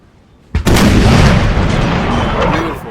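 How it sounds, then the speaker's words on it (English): A volley of 5-pounder guns fires across a battlefield in Napoleon: Total War, opening with one sharp boom and swelling into a loud, sustained, rumbling roar of overlapping cannon fire that slowly thins out. "Let's have a little volley from the guns. Sound of the guns going off across the battlefield."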